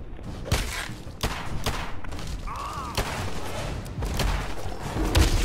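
Pistol gunfire in Fallout 4: several sharp shots at irregular intervals, some close and punchy, mixed with thuds and game noise, with light talk now and then.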